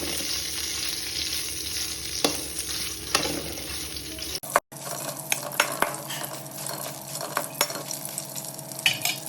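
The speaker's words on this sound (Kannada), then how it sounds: "ನೆಕ್ಸ್ಟ್ ಈ ಕಡೆ ಎಣ್ಣೆ ಮತ್ತು ಮೆಣಸಿನ್ಕಾಯಿನ ಹುರ್ಕೋಬೇಕು." Green chillies frying in oil, a continuous close sizzle broken by sharp clicks and scrapes of a spatula stirring in the pan.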